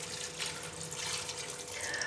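Water runs into a cooking pan of aloo baingan with spices, a steady splashing pour that carries on for a couple of seconds, close and moderately loud.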